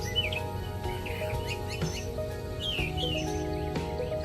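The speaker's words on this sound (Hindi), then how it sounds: "सुबह सूरज निकला, चिड़ियाओं चहचहाई" Small birds chirping and trilling in the morning, several overlapping calls repeating at a lively, irregular pace, moderately close over a steady background hum.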